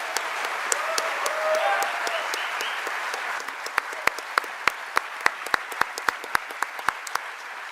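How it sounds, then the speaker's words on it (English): An audience applauds at the close of a debate, a sustained wash of clapping that thins out into scattered individual claps toward the end. "One more round of applause, please."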